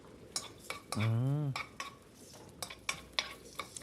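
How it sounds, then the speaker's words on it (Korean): Minced garlic and onion stir-fried in a pan with perilla oil, giving soft scraping and clinking strokes at a steady rhythm, with a brief voice-like tone early on. "여기에다가 다진 마늘 넣고 아까 양파 있었죠? 네네. 양파 넣고 살짝 볶아주세요."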